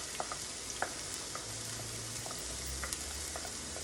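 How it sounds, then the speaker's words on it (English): Onions and mushrooms sautéing in a pan, a soft continuous sizzle with light scattered clicks and crackles from stirring, close and fairly quiet, with no voice. "I'm going to saute these until they're translucent, the onions."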